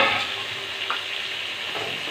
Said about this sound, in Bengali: এবার এই কড়াইতে সর্ষের তেল দিয়ে দেবো, দিয়ে কাটা পটলগুলো দিয়ে দেবো।